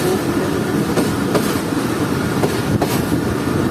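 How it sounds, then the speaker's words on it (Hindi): Jand Passenger train pulling out of Salemanabad station, a loud steady rumble of carriages with periodic clickety-clack wheel beats on the rails, heard from on board, no talking. "तो ये ट्रेन हमारी निकल रही है सलेमानाबाद रेलवे स्टेशन से सिर्फ 2 मिनट रुकने के बाद।"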